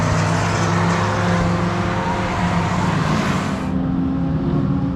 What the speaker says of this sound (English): they can hear the car surging, woo, woo, woo, from outside the car